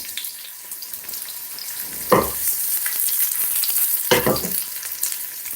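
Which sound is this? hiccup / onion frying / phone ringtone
onion frying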